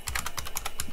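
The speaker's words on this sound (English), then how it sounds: "it's hard typing around the camera mount" Quick, crisp keystrokes rattle on an IBM 5150 clone computer keyboard, about ten presses in under a second, close and clear with no talking.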